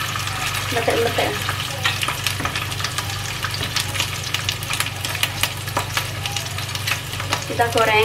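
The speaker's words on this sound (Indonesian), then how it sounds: "Kita goreng pelan-pelan ya." Ground fish fries slowly in a pan, a steady crackling sizzle with occasional sharper pops and a brief spatula scrape, close and fairly loud, with a voice briefly heard at the start and end.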